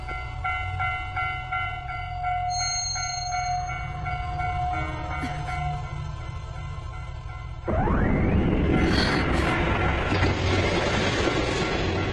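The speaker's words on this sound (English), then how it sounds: "Suna, didn't you see that train just now?" A train rumbles past steadily with rhythmic clickety-clack of wheels over rail joints, a tonal warning signal sounding early on, then a louder surge of rushing noise as it passes close by.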